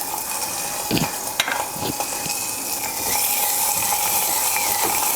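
Ginger garlic paste hits hot oil with golden cashews and spices in a handi, giving a steady close sizzle with a few scraping stirs, and the frying grows louder partway through.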